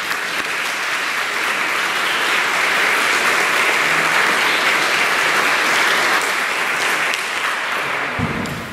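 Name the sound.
congregation applauding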